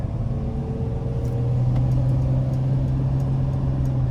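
A 2022 Mercedes-Benz Sprinter 3500XD conversion van drives along at a steady pace, giving a continuous low engine drone and road rumble heard from the cabin, with no talking.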